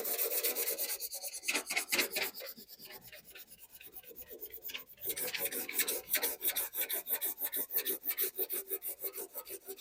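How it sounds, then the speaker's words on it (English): Rhythmic rasping strokes of hand scuff-sanding a piece of furniture, fast and scratchy up close, pausing briefly before resuming in quick even passes. "I'm going to go ahead and do some scuff sanding."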